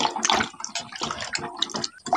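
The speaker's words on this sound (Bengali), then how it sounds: "এখন আমগুলোকে ধুয়ে নিচ্ছি" Raw mangoes being washed in water, with splashing and sloshing as the fruit is rubbed and turned by hand in a basin, fairly close and continuous with brief pauses.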